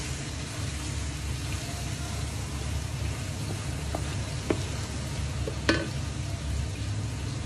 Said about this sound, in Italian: Facciamo ancora soffriggere.